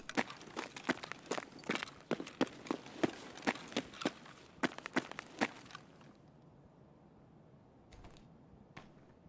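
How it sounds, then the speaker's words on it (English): Rapid footsteps in Escape From Tarkov, a run of crisp close steps for about six seconds, then two faint isolated steps after a pause. "Heard footsteps, probably under me."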